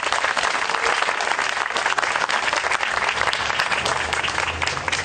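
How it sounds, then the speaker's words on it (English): Sustained audience applause fills an exhibition opening ceremony for a traditional Chinese culture show in Australia, a dense, steady clatter of many hands from a sizable crowd, loud and continuous throughout with no voices on top. "it's worth a round of applause just to kick things off"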